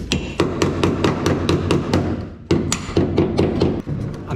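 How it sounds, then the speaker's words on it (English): Metal hammer blows strike rusted bodywork on an endurance race car under construction, coming as a fast, loud, evenly spaced series of ringing impacts with a brief pause midway. "The more you hammer rust, the more it's going to"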